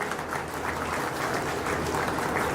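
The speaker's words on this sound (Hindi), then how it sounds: "उनके लिए एक बार जोरदार तालियां हो जाए।" A crowd gives loud, dense, sustained applause in honour of a respected guest, continuous clapping close and full throughout with no talking.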